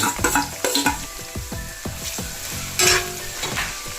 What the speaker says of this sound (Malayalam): നമുക്ക് അരിഞ്ഞു വെച്ചേക്കണ സവാള പച്ചമുളക് ഇഞ്ചി ഒക്കെ ഇട്ടൊന്ന് വാഴത്താം